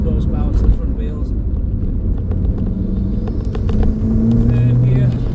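A 2003 Ford Focus RS MK1 with 275 horsepower to the front wheels accelerating through third gear on a road test, a loud continuous engine drone and road rumble heard from inside the cabin, with someone talking over it.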